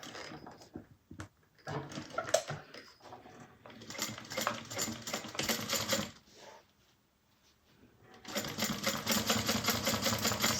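Sewing machine top stitching a vinyl bag strap onto webbing, running in quick mechanical bursts of rapid stitching with a short pause midway before resuming, close and fairly quiet.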